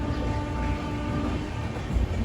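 Steady rumble of a train under way, heard from inside, with a constant low roar and faint tonal hum running through; no distinct horn or clatter stands out.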